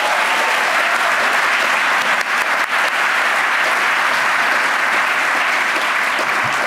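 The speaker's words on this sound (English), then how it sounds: "we need a round of applause one more time for the Detroit Youth Choir" Audience applause for the Detroit Youth Choir at a U.S. Mayors Challenge event, a loud, dense and steady ovation from a large crowd, with a brief dip partway through before it carries on at full strength.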